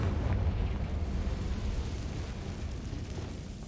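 A Confringo fire spell blast in Hogwarts Legacy erupts as one rumbling burst that slowly decays into a low roar, fairly faint and heard alone.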